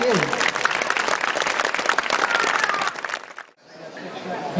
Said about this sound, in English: let's have a big round of applause for Mark and his amazing team